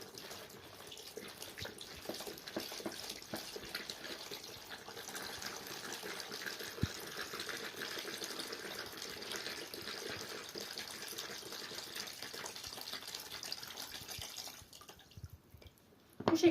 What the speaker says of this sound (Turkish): Şimdi bu suyu hepsini süzdürüyorum.